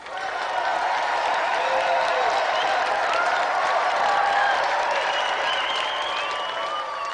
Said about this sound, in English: Another round of applause, then, for Nintendo champion Thomas Patterson and his challenger,